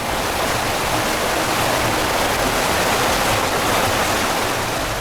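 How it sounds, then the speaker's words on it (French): Steady, loud rushing water of the Mayo-Louti pours continuously over rocky cascades, a dense, unbroken roar with no pauses or voices. "les dernières eaux saisonnières du Mayo-Louti échouées sur des cascades rocailleuses"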